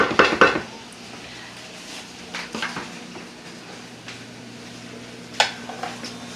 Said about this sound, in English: Just stirring it.